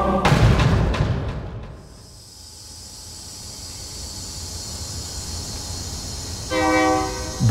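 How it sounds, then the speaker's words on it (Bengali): A train pulls into Chanchal station at dawn, with a loud rumbling arrival that settles into a steady hiss, then a brief horn blast near the end. "চাঁচল স্টেশনে ট্রেন এসে থামল।"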